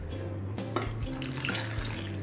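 Water poured from a tap into a pressure cooker holding eggplants for kathrikai kothsu, a steady close splashing and running stream lasting about two seconds with faint clinks of the pot.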